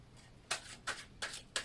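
A deck of cards is shuffled in four soft, brushing bursts at a steady rhythm. The sound is quiet and close, with no voices.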